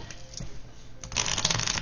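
Tarot cards being shuffled close up before a reading, a soft papery rustle that swells into a denser riffling burst partway through.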